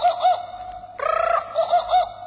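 A voice imitates a jungle bird's cry as a page-turn cue in a children's picture-book reading: a few warbling, trilled calls with a short pause, then a brighter burst and more looping hoots, close and clear.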